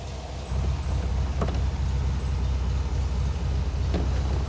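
A restored 1965 Volkswagen Beetle convertible with its air-cooled engine running steadily, a low continuous chug close by with a few faint clicks and knocks over it, no talk.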